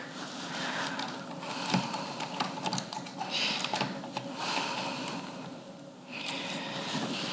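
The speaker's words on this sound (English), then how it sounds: "Now I'm going to bring back the scissors closing block." Scissors closing block being refitted on an AK-I tufting machine: scattered small metallic clicks and light taps, close and fairly steady over a faint background hum, with no voices.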